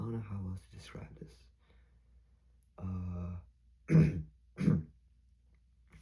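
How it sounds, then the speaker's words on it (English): A person clears their throat twice, short harsh rasps following quieter murmured sounds, close and fairly soft. "Sorry, I had to clear my throat."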